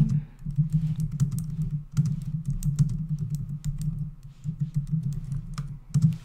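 Steady typing on a computer keyboard while email template text is written, a dense run of close, crisp key clicks with brief pauses near the two-second mark, and no voices.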